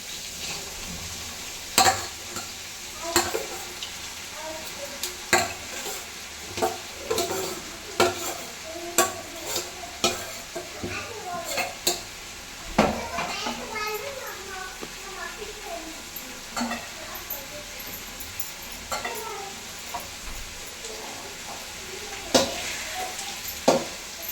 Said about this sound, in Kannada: ಚೆನ್ನಾಗಿ ಮಿಕ್ಸ್ ಆಗೋವರೆಗೂ ತಿರುಗಿಸ್ಬೇಕಾಗುತ್ತೆ.